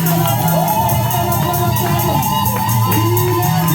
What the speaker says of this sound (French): Acclame.